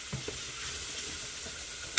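Quiet, steady sizzling of breakfast sausage and chopped onion frying in a pot, with a couple of soft stirring knocks and a brief clink near the end.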